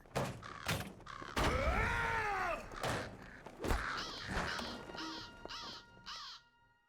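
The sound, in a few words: crows squawking in a video game, Lord of the Rings Online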